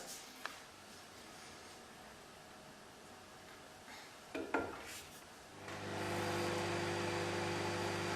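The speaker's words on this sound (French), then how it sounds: "il faut que je fasse cuire au micro-ondes pendant 21 minutes à 800 watts" A microwave oven set to 800 watts starts up after a couple of small clicks and beeps, settling into a steady, close hum with a low electrical drone that continues alone to the end.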